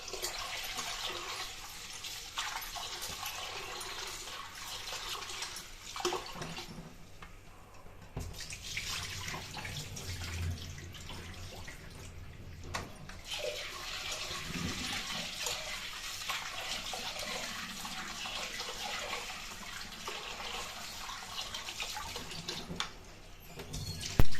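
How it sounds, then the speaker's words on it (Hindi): Tap water runs and splashes in a kitchen sink as a pot is washed and then filled, a continuous low-level rush with brief pauses and shifts in tone. "इसको अच्छे से वॉश करके मैं दोबारा से मतलब अब पानी भर के इसे उबाल दूंगी"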